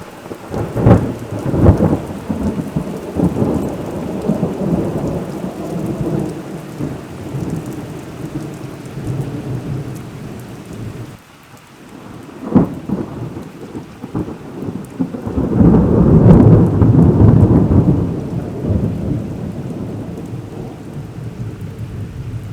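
A thunderstorm at night brings steady, loud rain pattering on surfaces, with thunder cracking and rumbling through it and a heavy roll building near the end.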